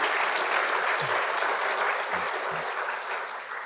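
Audience applause at a Georgia State University State of the University address, a steady broadband wash of clapping from a large crowd filling the room throughout, easing slightly toward the end.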